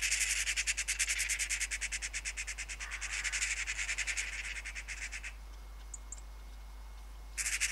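Agitated magpies over an oat field rattle out a fast, continuous chattering squawk, rhythmic bursts repeating for several seconds before stopping, then a brief return at the end.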